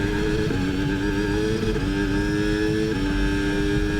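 Formula 1 car from F1 26 in Austria, its engine droning steadily with shifting pitch lines as it races, loud and continuous throughout with no voices.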